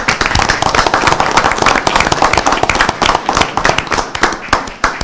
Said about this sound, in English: Let's give a round of applause for this man.